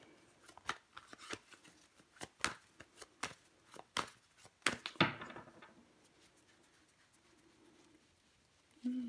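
Tarot cards are handled and laid out in a quiet room, making soft irregular slaps, flicks and shuffling taps that fade toward the end.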